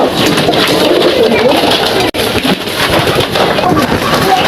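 Young pigeons in a loft give out low, throaty coos that repeat through a blustery, loud stretch, with wind buffeting the microphone and a voice talking over much of it.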